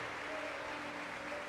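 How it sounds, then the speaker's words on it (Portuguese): Church congregation at a family worship service applauding a young woman: a steady, even wash of many hands clapping in a reverberant hall, with a faint tone sustained underneath. "Você pode aplaudir a vida desta jovem."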